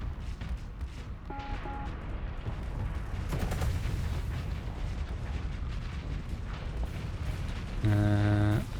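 Spaceship weapons in the Starsector space combat game fire in a dense, continuous barrage of booming blasts and crackling shots, with brief tonal beeps, ending in a loud sustained electronic tone.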